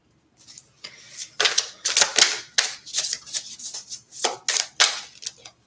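Tarot cards pulled and shuffled from a deck, a run of quick crisp papery snaps and flicks, close up and alone.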